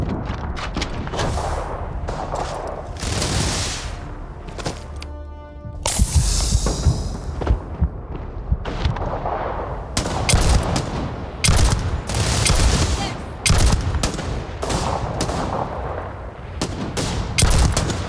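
Rapid gunfire erupts in Starfield, dense bursts of automatic shots and heavier booms from several weapons, loud and close. It comes in repeated clusters across the whole stretch with brief gaps between them.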